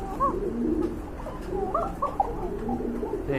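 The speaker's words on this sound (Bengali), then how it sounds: "দেখেন ডাকটা ডাকটা কিন্তু চমৎকার আরও অনেক ডাকে কবুতরগুলো" Pigeons coo repeatedly in soft, rolling calls over a low steady background murmur, several birds overlapping close by.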